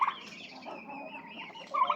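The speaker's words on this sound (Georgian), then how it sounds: "აი ეს ინდაური, აი ეს შავი" A black turkey gobbling on a farmyard, a warbling, rattling call that swells at the start and again at the end, close and clear with nothing else over it.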